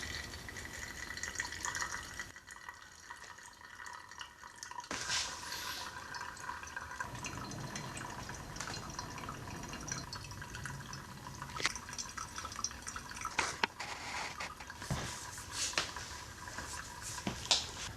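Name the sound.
coffee draining from a large HandyBrew brewer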